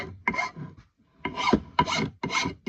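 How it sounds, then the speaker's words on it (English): Rasp and double-cut file scraping a hickory axe handle, loud close strokes in three or four separated bursts with a gap between. "with a rasp and a file"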